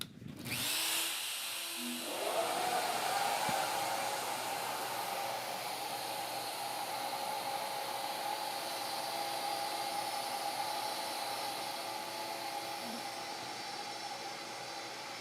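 A CNC spindle cuts mother of pearl for a guitar headstock inlay, giving a loud, steady, high whine that holds unbroken throughout after a brief spin-up.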